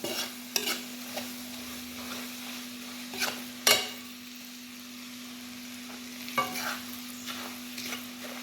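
Chili powder being stirred into a pickle in a pan, heard as a faint background sizzle with a low steady hum and a handful of sharp spoon scrapes and clinks at irregular intervals.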